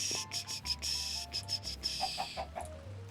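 Chickens cluck in Minecraft, with short repeated clucks over a steady hum of game ambience and no talk.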